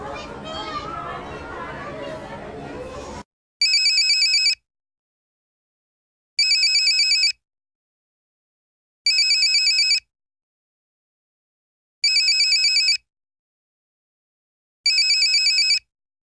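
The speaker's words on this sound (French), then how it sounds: "S'il te plaît, réponds au téléphone." A telephone rings in five identical bursts of electronic ringtone, each about a second long with silent gaps between them, following a stretch of lively background chatter and children's voices at the start.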